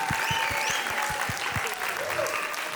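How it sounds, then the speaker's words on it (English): An audience applauds cooking competitors at the final of a cookie baking contest, steady clapping with some voices underneath. "so round of applause"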